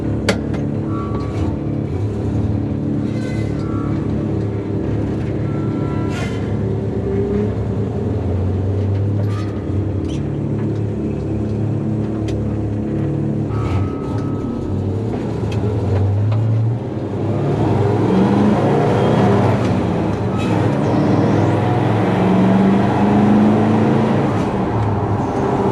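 A 1965 Chevy C10 truck engine idles with a deep, throaty rumble through piped exhaust with a Street Pro muffler, then revs up louder and stays raised for several seconds.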